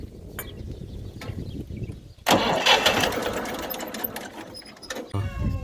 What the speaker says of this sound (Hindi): एक आ ट्रैक्टर चालू करो.